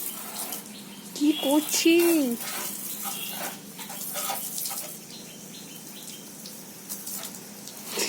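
Water running and splashing while a car is washed outdoors, a steady spray with bursts of louder flow, as a voice speaks briefly and bird calls chirp nearby.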